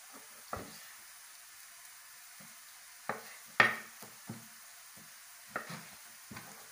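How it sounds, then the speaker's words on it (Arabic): Chopped onion frying in a pan for a shrimp and chicken breast penne dish gives a soft, steady sizzle, broken by a few sharp scrapes and knocks of stirring, close by and without talk. "كما دابا البصله راه بدينا تشحر"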